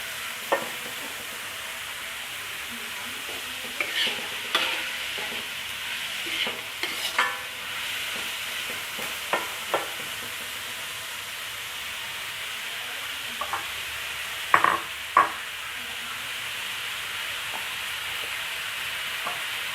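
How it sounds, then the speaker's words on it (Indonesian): Squid and chilies sizzle steadily in a frying pan, with scattered scraping and clacking stir strokes of varying strength over the hiss, close up and without voices. "Kita aduk-aduk terus."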